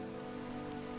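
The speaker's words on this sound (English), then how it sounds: "This little place that's raining on them." Steady rain patters across the ground in the video game Minecraft, a continuous even hiss of drops at moderate volume with no voices over it.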